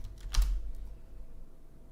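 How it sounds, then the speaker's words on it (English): Brief burst of computer keyboard keystrokes near the start, a few quick clicks, then quiet room tone. "Sorry, I was typing something."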